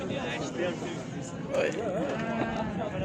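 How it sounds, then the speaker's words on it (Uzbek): Several goats bleat repeatedly at a busy livestock market among sheep, their cries rising over continuous crowd chatter and background bustle. "Bo'g'ozlar ham rosa kiribdi echkilar."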